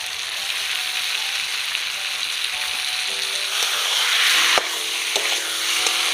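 Chicken pieces with chopped tomato frying in a pan for a Bengali chicken kosha, a loud dense sizzle that swells midway, broken by a few sharp spatula clinks and stirring scrapes, no voices.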